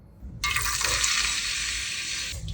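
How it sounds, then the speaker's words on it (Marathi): Finely chopped onion hits hot oil for a misal tadka, bursting into a loud, steady sizzle that starts abruptly and holds close and bright before easing near the end. "आता यामध्ये एक बारीक चिरलेला कांदा फोडणीत घालूयात"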